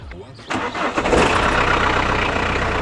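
A warm car engine cranks briefly, catches and settles into a steady idle close by, with people talking over it.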